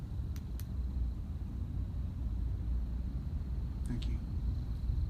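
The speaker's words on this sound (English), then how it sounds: "Hear the thunder?" Thunder on a stormy night rolls as a steady, deep rumble that fills the whole stretch, with a few faint, brief higher clicks and crackles above it.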